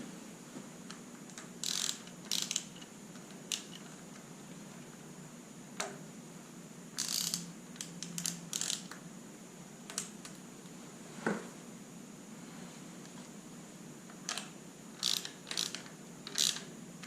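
A hand ratchet snugs bolts during a forged VQ37VHR engine build, with scattered quick clicking bursts of the pawl at irregular intervals over a faint steady background hum.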